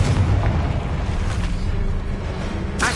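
Spell blast from the Confringo fire curse in Hogwarts Legacy: a dense, sustained booming rumble with a low heavy body, then a sharp crackling burst near the end.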